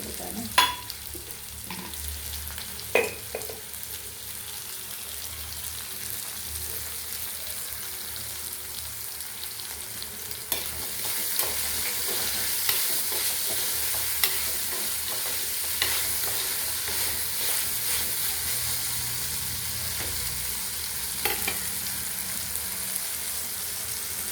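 Onions and spices sautéing in a pan for a snakehead fish curry give a soft, steady sizzle, broken by intermittent clinks and scrapes of stirring throughout.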